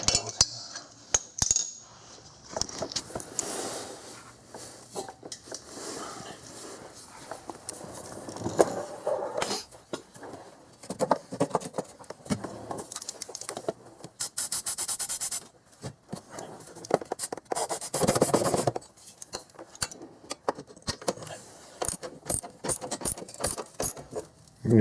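A rusted, seized bolt on a 2001 Infiniti QX4 crunches and grinds as it is turned, with irregular ratcheting clicks and metallic scraping in bursts that come and go.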